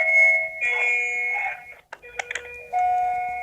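An electronic bell chimes in sustained tones, a melodic ringing that breaks off briefly with a few clicks, then resumes.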